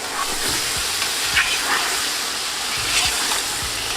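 Chicken sizzles and hisses in a hot pan for biryani, with a steady crackling spatter and a few soft clinks.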